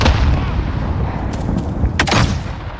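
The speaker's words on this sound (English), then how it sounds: "Grenade out!" A grenade goes off in a video game, a sharp, loud blast near the end of a short stretch of constant noisy combat rumble.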